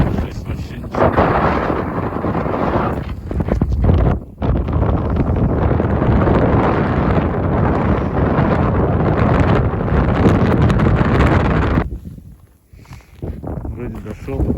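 Fierce wind batters the microphone on a frozen river during winter ice fishing, a loud continuous roaring rumble with gusty surges that briefly drop out near the end; a voice is faintly present.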